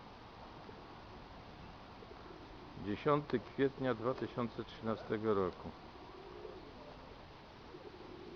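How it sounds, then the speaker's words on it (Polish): A pigeon coos in a soft, rhythmic run of throaty notes for a few seconds over a faint, steady background hiss, in the market square of Sandomierz, Poland, in spring. "Sandomierskie gołębie"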